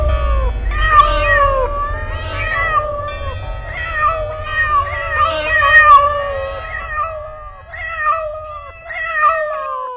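Several cats meow in the Roblox game Bloxburg, a steady run of loud, close, overlapping mews and cries that goes on for the whole stretch without talk.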